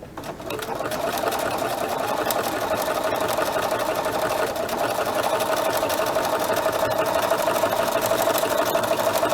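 A sewing machine stitches a honeycomb pattern through fabric, running at a steady, fast mechanical whir with a constant rhythmic clatter that stays close and even throughout.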